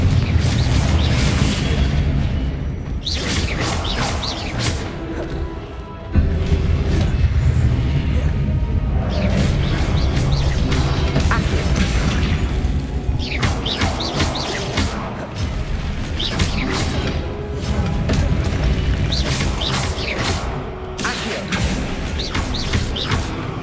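Confringo fire spell in the video game Hogwarts Legacy, a loud dense run of booming blasts, crashes and rumbling impacts that keeps going, with short breaks and bursts of crackle.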